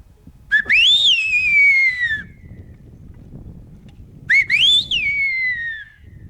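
Two clear human whistles, each a quick rising note that slides slowly downward, separated by a pause, over a low rumbling wind-like background.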